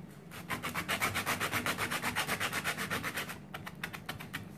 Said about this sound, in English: I put them together, and then I'm sanding them